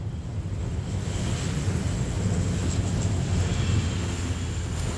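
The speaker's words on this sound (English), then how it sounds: "The planes go back to take on 42 tons of water with each pass" Firefighting water bomber planes flying over hills during a wildfire in strong mistral wind, a steady loud engine roar mixed with broad wind rush and a faint high whine throughout.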